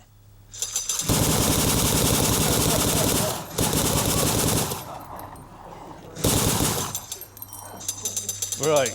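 Bursts of rapid automatic gunfire and loud shots recorded as film sound effects for a Western, dense volleys separated by brief pauses, with some background voices.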